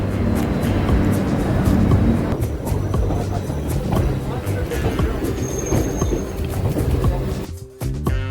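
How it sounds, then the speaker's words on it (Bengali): A passenger train on a Kolkata-to-Darjeeling route rumbles along with steady low-frequency rolling noise, creaks and a brief squeal of the wheels, loud and continuous, with a short dip near the end. "তো ট্রেন আমাদের ছেড়ে দিল তার নির্ধারিত সময়।"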